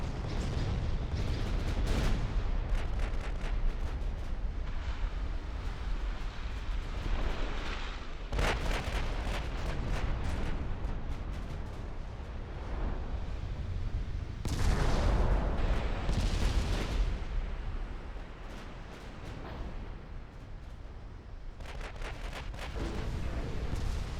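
Big naval guns firing in the game Ultimate Admiral: Dreadnoughts, with loud, continuous booming salvos and rumbling blasts over roughly 24 seconds, sharper bursts breaking out around eight and fifteen seconds.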